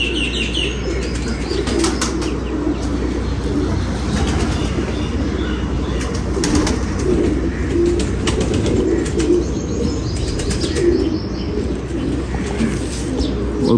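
Pigeons coo and flutter nearby, soft repeated calls and bursts of wing flapping over a constant low rumble, with no one talking.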